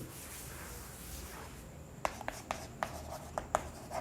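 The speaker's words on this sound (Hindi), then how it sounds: "तो अगला हम हेडिंग लिखेंगे" A pen or marker writes a heading during a chemistry lesson: faint room hiss, then a quick series of soft, scratchy strokes and taps in the second half.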